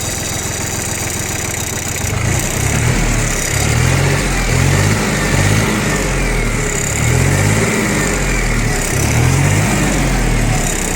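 A Yanmar FX18D mini tractor's diesel engine runs after starting, a loud, close, steady chugging idle with a rhythmic low pulse and no talk over it.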